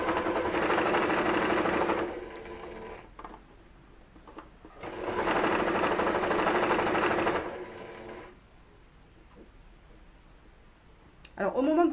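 A sewing machine stitches a ruffled dress in two long bursts of steady mechanical whirring, separated by quieter pauses, with a brief clatter at the end.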